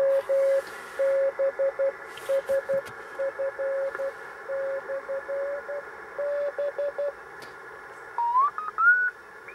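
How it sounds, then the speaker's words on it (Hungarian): Morse code telegraphy sidetone from a mobile amateur radio station beeps as a steady single-pitched tone keyed in rapid dots and dashes for several seconds, then a brief warbling higher tone near the end, with no talking. "ez egy kicsit extra, hogy mobil üzemben távírózni"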